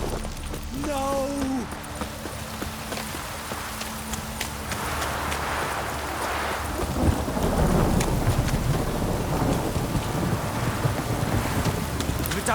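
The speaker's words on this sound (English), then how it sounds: "If it don't stop raining, my arse will rot off." Heavy downpour in The Witcher 3: Wild Hunt, a steady hiss of rain with a deep rolling thunder rumble building midway and continuing, close and loud, with a few faint horse sounds early on.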